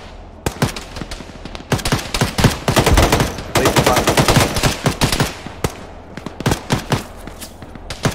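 Machine gun fire in a ShackTac military video game: dense, loud bursts of rapid shots, with sustained fire in the middle and sparser single cracks and short bursts before and after, without any talking.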